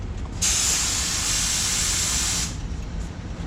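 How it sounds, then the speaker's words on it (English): A paint spray gun blasts lacquer thinner through its nozzle in one steady, loud hiss lasting about two seconds, then cuts off, leaving low background noise. "Get your paint gun out. I like to run just a tad bit of lacquer thinner through it just to wash it out"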